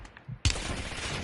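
Gunfire in a Call of Duty video game, a sudden dense burst of rapid shots breaking in after a quieter moment and continuing loud to the end, no talking.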